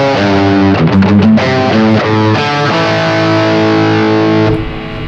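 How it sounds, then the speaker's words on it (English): An electric guitar played through a Boss SY-1000 on its metal distortion setting rings out loud and saturated, with chugging chords and sustained notes that fade at the end, with no talking. "Lead distortion, metal distortion."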